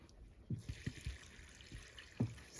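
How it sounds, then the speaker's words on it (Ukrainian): Water poured from a container onto a newly planted spruce in a garden plot, giving a few faint, soft splashes and trickles in short irregular bursts, quiet and close. "І ще трошечки водички."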